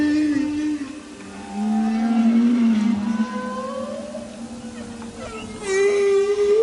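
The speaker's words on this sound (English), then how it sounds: "I think that they're humpback whales and they're singing on their migration route down the North Atlantic to the Silver Bank" Humpback whales on a North Atlantic migration route sing in long, sliding moans and wails. Several overlapping tonal calls rise and fall against a steady underwater hiss, loud and continuous.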